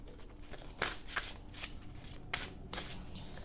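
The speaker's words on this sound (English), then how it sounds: "I picked two decks that are so awkward to shuffle." Two awkward tarot decks are shuffled by hand in a quiet room, a run of soft riffling and slapping bursts, close and fairly faint.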